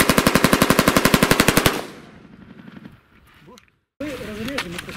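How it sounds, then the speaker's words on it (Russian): Suppressed automatic fire from a Vulkan-M bullpup rifle with reduced-velocity cartridges, a rapid steady burst of about twenty close, loud shots, then a fading tail and a voice. "Vulcan M с глушителем, проверяем, и вот такие вот патрончики, уменьшенная скорость"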